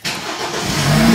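A BMW 428i with an N20 turbo engine starts up, the cranking catching into a loud, steady run that builds slightly in level over about a second, close by with no talk.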